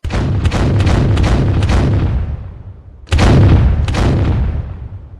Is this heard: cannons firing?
yes